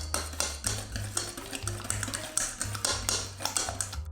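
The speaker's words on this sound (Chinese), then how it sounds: "需要简单的搅拌一下" Eight separated egg yolks are whisked in a bowl for homemade ice cream, giving a quick, steady run of light clicking taps close by, with no one speaking.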